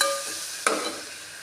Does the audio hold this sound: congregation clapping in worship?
no